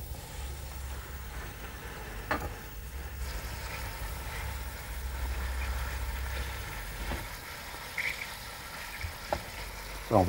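Pieces of pré-salé lamb browning in hot oil and lamb fat for a navarin, a steady soft sizzle with a low background hum and a few sharp clinks of stirring.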